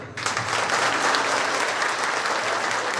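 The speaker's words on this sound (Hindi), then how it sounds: "एक बार जोर से तालियां बजाओ" Enthusiastic applause from a devotional gathering for Vrindavan Bihari at a Guru Poornima event, rising quickly and holding as a dense continuous roar of clapping.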